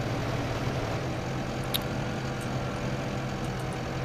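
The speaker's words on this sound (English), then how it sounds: "it's the same engine sound" A JCB 536-70 Agri loader's engine idles in Farming Simulator 15, a low, steady continuous drone with a rough mechanical hum, unchanging and moderately loud, with faint ticks above it.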